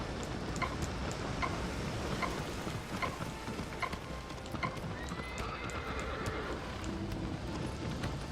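A horse in the PS4 game Shadow of the Colossus gallops at speed with steady, rapid hoofbeats over a constant rushing background, and a whinny rises near the end.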